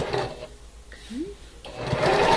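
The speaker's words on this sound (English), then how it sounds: "I'm going to stop after I sew over that intersection and line up everything else." A sewing machine stitches quilt seams over nested intersections in a fabric studio with a steady close whir, which briefly pauses midway before running again.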